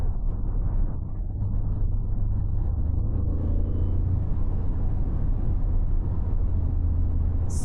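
A 2027 Porsche Cayenne Electric drives in Sport Plus mode, heard from inside as a steady low rumble and motor whir that rises slightly, with no talking.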